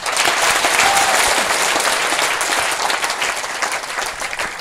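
A crowd claps loudly and steadily at an event, the dense applause holding for a few seconds and easing slightly near the end.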